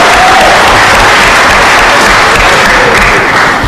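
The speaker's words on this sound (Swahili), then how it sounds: "naomba muwapigie makofi. Hiyo panel inataka makofi ingine tafadhali." Loud, sustained applause from the audience at a mining, oil and gas forum, clapping steadily for a panel throughout, with no one speaking over it.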